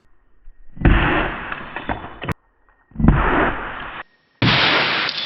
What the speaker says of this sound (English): that is the most powerful airsoft grenade I've ever gotten hit by